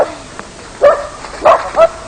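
A hunting dog gives three short, sharp barks close by during a hunt drive, spaced irregularly over a quiet background.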